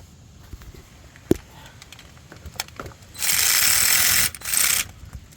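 Ratchet wrench working the pulley nut on a 3rd-generation Mitsubishi Eclipse while changing the serpentine belt, a sharp click followed by two bursts of loud, close buzzing ratcheting.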